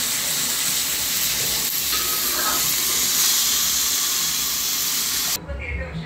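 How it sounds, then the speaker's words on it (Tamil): Chicken fries in hot sesame oil inside a pressure cooker, a loud, steady sizzle and hiss that cuts off abruptly near the end. "இப்போது சிக்கனை லைட்டாக ஃப்ரை பண்ணுறோம்"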